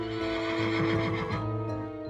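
A horse neighs in a long, loud, wavering whinny with a faint clip-clop of hooves beneath, close and clear with no talking, serving as a jousting-era horse sound effect.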